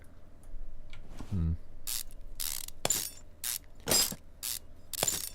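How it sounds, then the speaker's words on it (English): A ratchet wrench clicks as it removes a bolt in Car Mechanic Simulator 2015, giving a run of quick close ratcheting clicks followed by several sharp bursts of mechanical noise. "the guy's using like a notched wrench to get this thing off"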